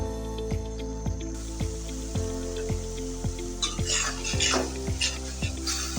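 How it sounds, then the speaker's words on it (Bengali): Chili and coriander powder being sautéed in a pan for a Bengali fish bhuna, with a spatula scraping in a steady beat of about two strokes per second over a low sizzle and a constant background hum. "এখন মশলাগুলো আমি ভালো করে কষিয়ে নেব।"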